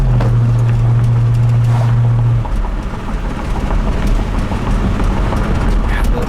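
A 1969 Oldsmobile Cutlass S driving over a rough road, a loud steady rumble of engine and road noise with a low drone fading after a couple of seconds, then continuous jostling bumps.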